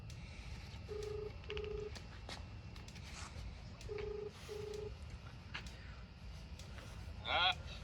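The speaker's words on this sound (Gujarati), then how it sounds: "જાય છે, રિંગ જાય છે હો." Outgoing call on a mobile phone, heard as faint ringback tones in two evenly spaced pairs of short beeps over steady background hiss, followed by a brief higher electronic warble near the end.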